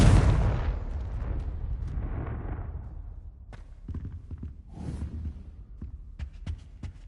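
A Confringo spell blast in Hogwarts Legacy lands as one heavy, booming explosion at the start and fades into a low rumble, followed by scattered quieter impacts and clicks.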